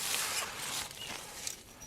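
A camp shower tent's zipper being pulled, a continuous raspy zipping run lasting nearly two seconds with a slight catch near the end, close and fairly quiet.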